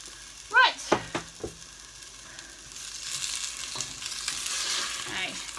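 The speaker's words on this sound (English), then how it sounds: "Okay, give that a bit of a stir up" Grapes and sugar stirred in a pot, with a few sharp knocks and scrapes of a utensil at first, then a soft, steady sizzle and stirring rustle close by, with brief voice sounds near the start.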